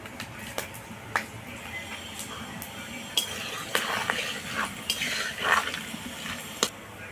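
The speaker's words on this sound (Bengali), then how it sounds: "এবার আমি তেলের মধ্যে দিয়ে দেব আর তার সঙ্গে থাকছে গোটা জিরে গোটা শুকনো লঙ্কা আর তেজপাতা" Whole cumin seeds, dried red chillies and bay leaves dropped into hot oil for a mutton curry, giving a crackling sizzle with scattered sharp pops and utensil taps, close and moderately loud.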